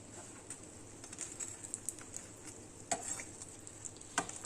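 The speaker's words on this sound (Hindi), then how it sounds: "ये मैंने एक ही डाला हुआ था, तो इसे अब मैं फ्राई कर रही हूँ।" A bread cheese roll frying in oil, giving off a quiet, steady sizzle with a few faint clicks and small pops and no talking.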